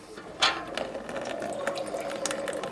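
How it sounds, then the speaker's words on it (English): Water trickles steadily out of a radiator being drained, a continuous soft splashing hiss heard close up and alone, with one slightly louder spurt near the start. "Getting a few little trickles of water."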